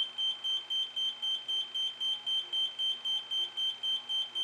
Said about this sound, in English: The frequency of beeping and the LEDs illuminated will increase as you move toward the base location